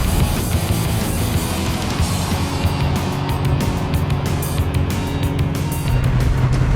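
A 2008 Lotus Elise SC sports car driving fast on an open road, its engine and road roar loud and steady throughout with rushing wind noise and no break.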